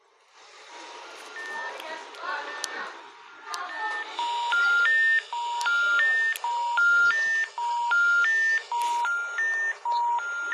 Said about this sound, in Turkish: Nokia telefon sesi la bu